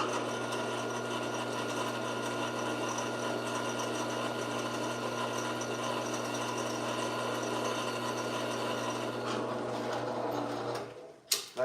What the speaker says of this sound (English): That should not take that much to drill.